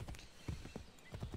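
Horse hooves in the video game Assassin's Creed III Remastered clop softly in a steady walking rhythm of paired beats, faint and fairly distant.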